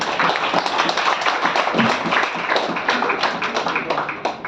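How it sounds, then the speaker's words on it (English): Audience applause at a squash tournament prize distribution, the 77th CCI Western India Slam 2022: sustained dense clapping from a crowd, steady and fairly loud throughout. "A big round of applause for them, please."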